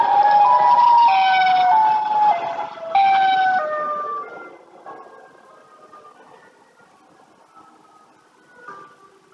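A Siren Head monster in the Roblox video game wails with a loud, rising and falling siren for about four seconds, then fades into faint, distant tones.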